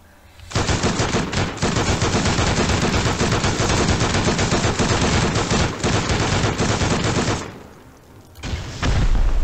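Sustained automatic gunfire in the survival game Rust, loud and dense for several seconds, then a short drop before another burst starts.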